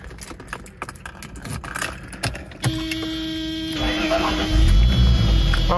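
A Mercedes-Benz with bagged suspension has its ignition turned on, with faint clicks, then the engine cranks and catches into a smooth, steady idle that grows louder and fuller near the end.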